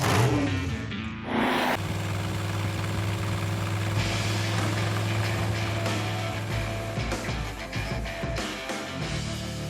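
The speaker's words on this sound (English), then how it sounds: "It is Stubby Bob, our 1950 Ford F600 dump truck that we turned into a wheelie machine." A 1950 Ford F600 dump truck nicknamed Stubby Bob, converted into a wheelie machine, runs with a loud, close engine that idles roughly, then holds a sustained throaty rev with small surges and fluctuations throughout.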